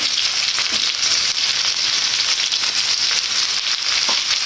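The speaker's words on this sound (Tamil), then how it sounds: "வெட்டி வைத்த பெரிய வெங்காயத்தை போடுவோம்." Chopped big onions fry in hot oil for a tin fish gravy, a dense, steady sizzle with faint crackles running loud and unbroken throughout.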